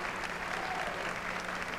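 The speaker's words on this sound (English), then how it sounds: "we'd like to give a nice round of applause to all" Audience at the Miss Continental drag pageant applauding, a steady wash of clapping from a sizable crowd heard at moderate level throughout.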